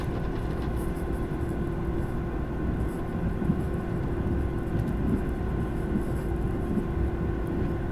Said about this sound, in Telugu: అది గుడ్స్ ట్రైన్ పోతుంది